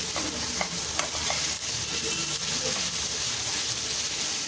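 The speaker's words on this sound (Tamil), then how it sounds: "இதை கொஞ்சம் நேரம் வதக்கிக்கலாம்." Cabbage, onion and capsicum being sautéed on high heat for Schezwan fried rice, a continuous sizzle with scraping stirring strokes close up, no voices.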